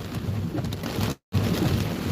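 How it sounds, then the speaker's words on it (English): Heavy rain pounding a moving vehicle during a severe thunderstorm on Interstate 55 in Mississippi, a dense steady roar of downpour with a brief sudden dropout near the middle. "it's blinding sheets of rain"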